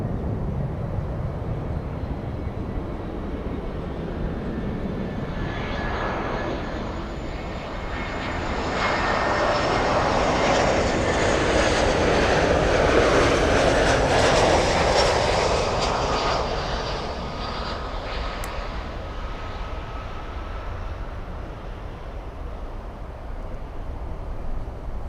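An airliner arriving at Miami International Airport from Colombia passes overhead, a broad jet engine roar swelling from a distance to a loud peak mid-way and then fading, with no talk.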